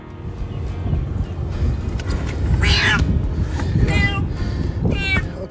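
Several high, wavering meows from a cat trapped in rising floodwater in Dubai, over a rumbling background of engine and wind noise, fairly close and loud.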